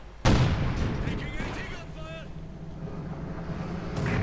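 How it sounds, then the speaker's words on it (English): Mortar and artillery fire from a Company of Heroes 2 World War II strategy battle, a heavy boom opening the passage followed by rumbling blasts and battle noise under a commentator's continuous voice. "he's actually moved his mortar awfully close to mine, which allows me to fire back"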